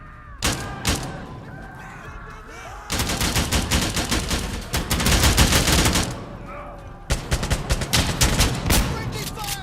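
Gunfire in the video game Insurgency: Sandstorm, with close, loud rapid-fire automatic bursts and scattered single shots rattling in clusters across the clip, with brief quieter lulls between volleys.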